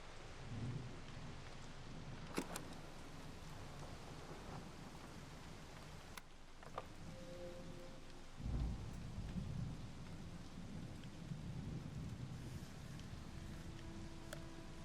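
Steady rain patters all the way through, with a low rumble partway and faint tones in the background; no one speaks.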